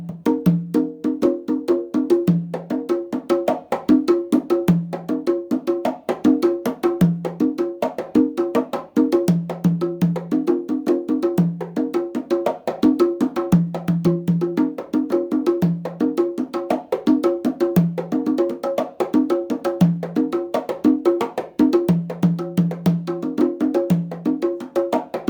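Congas played solo in ChachaElekefuñ-style improvisations, a dense, close, steady stream of open tones and slaps with recurring low bass strokes, loud and continuous throughout without talk.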